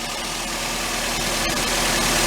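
A Toyota Yaris 1.3 engine idles steadily with a continuous, even mechanical hum and broadband hiss, close and fairly loud throughout, with no talking.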